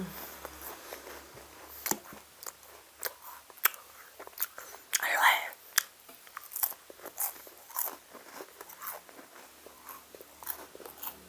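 Crunchy crackers with a salty, buttery flavour and sweet icing-sugar topping being bitten and chewed close up, with sharp crisp crunches and softer chewing between them, and a soft whispering voice now and then.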